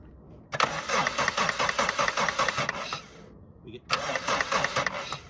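A Suzuki Swift 1.6 AWD five-door saloon with its fuel return line pulled off is cranked twice, each start attempt a loud, close, rhythmic cranking churn of a few seconds, with brief quiet between and faint voices underneath.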